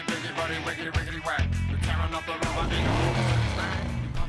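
Porsche Carrera race car in Need for Speed Hot Pursuit 2, its engine droning and revving continuously with rising and falling pitch, tires squealing at moments, loud and close throughout.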